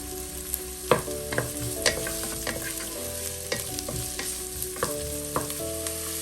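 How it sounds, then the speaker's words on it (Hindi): Medium onion sautéing in two tablespoons of hot oil, a steady close sizzle punctuated by regular scraping clinks of a spoon stirring against the pan. "ऑयल गर्म हो गया। अब इसमें ऐड करेंगे प्याज 1 अदद दरमियानी। इसको हल्का सा सौते कर लेंगे।"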